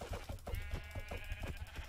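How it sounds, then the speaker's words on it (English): Sheep bleating in Minecraft, a short run of blocky, repeated bleats over low rumble from the game world, fairly quiet and with no talk. "But here's a sheep."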